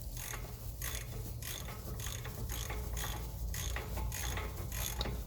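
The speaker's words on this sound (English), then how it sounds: "Then I can use a ratchet and just continue on putting it in." Ratchet wrench tightening a bolt on the rear hub of a 2009 BMW 750i, a series of quick clicking ratchet strokes repeated in a regular rhythm, close and fairly quiet in a workshop.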